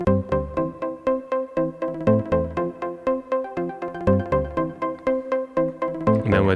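A Roland MC-303 pattern runs through LFO modulation, delay, auto pan and reverb, giving a busy, continuous stream of rhythmic synth notes with echoing tails and a brighter swell right at the end.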